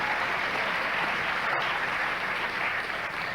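Studio audience applauding on a 1986 late-night television talk show, a dense, steady wash of clapping that holds loud and continuous throughout.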